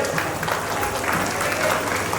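A school audience claps steadily and fairly close for the headmistress as she is invited onto the stage. Dense, even applause fills the whole moment.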